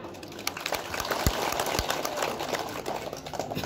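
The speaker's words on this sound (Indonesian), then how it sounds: "Tepuk tangan dulu kan?" Audience at a Balinese Hindu ceremony applauding, a dense, steady patter of many hands clapping at close range, continuous through the moment with no talk over it.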